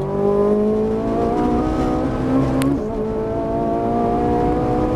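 Ferrari 458 Italia accelerating hard on the Auto Club Speedway race track, its engine note climbing steadily in pitch with a brief upshift break near the end, loud and close from inside the car.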